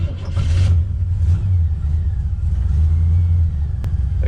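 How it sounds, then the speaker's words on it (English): A 1966 Chevy Nova with a 327 V8 drives along with its engine rumbling loud and close, a deep steady low-pitched drone with slight rises in revs and no talking over it. "That carburetor runs good."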